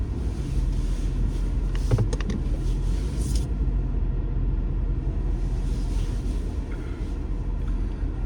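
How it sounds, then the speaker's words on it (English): A steady low rumble of a car engine and road noise fills the scene continuously, close and moderately loud, with a few brief higher clicks and rattles early on. "Oh, whoever's car that is."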